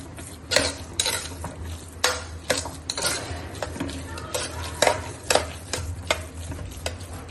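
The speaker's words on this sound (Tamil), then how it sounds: "சுகர் ஆட் பண்ணிட்டு இந்த மாதிரி கலந்து விடலாம்" A spoon stirs sugar into a black kavuni rice sweet in a metal pot, giving a steady run of close scraping strokes and bright clinks against the pan, with no voices.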